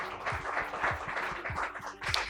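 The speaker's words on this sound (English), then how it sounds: "A round of applause to them, please." A conference audience claps after a panel session, a brief scatter of hands in a large room that swells, dips and picks up again over a couple of seconds.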